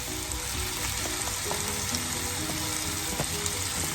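Chicken breast and wings dropped into a bubbling curry in a pan, giving a dense, steady sizzle with a few faint clinks and no talk over it.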